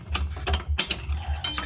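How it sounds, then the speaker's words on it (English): A wrench ratchets while loosening the heating element of an RV water heater, producing a close, loud burst of rapid clicking pawl sounds in short uneven strokes. "I could turn it with just that little lever that the wrench comes with."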